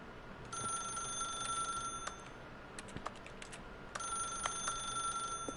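Telephone ringing in the video game The Stanley Parable, a bright electronic ring in two long bursts separated by a short pause, clear and close with a few faint clicks and no talk.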